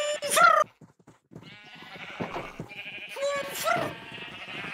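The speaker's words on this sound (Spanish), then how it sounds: "voy a dar de comer un poco a las ovejas" Sheep bleat twice in Minecraft, each call loud and wavering, with the flock's higher cries rising again toward the end over a busy game soundscape and someone speaking.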